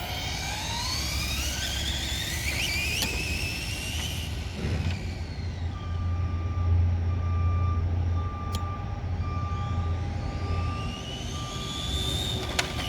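A Traxxas 4Tec 2.0 VXL RC car with high-speed gearing runs at half throttle across a parking lot, its electric motor whine rising and falling in pitch as it passes near and away, alone without talk.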